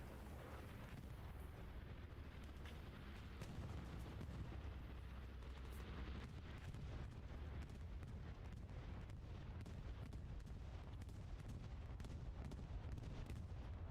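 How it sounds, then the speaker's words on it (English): Repeated heavy explosions from an aerial bombing run over a capture point in the World War II shooter Hell Let Loose, a dense rolling barrage of low booms and distant gunfire mixed with wind noise. "Nice bombing run straight over the point"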